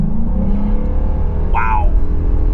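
A 2026 Ford F350 Tremor pickup with the 7.3 V8 engine and 4.30 gearing drones loudly and steadily from inside the cab as it pulls, with a brief higher chirp partway through.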